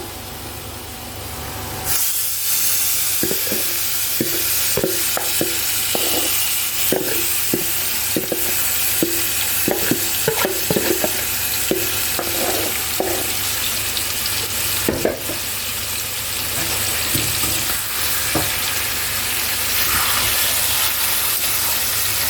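Marinated mutton goes into a pan of well-fried onions and sizzles steadily and loudly, with a broad frying hiss throughout and occasional clicks and scrapes from stirring. No one speaks.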